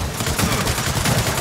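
Rapid bursts of Gears of War 4 gunfire, dense automatic shots firing continuously and loudly with no talking.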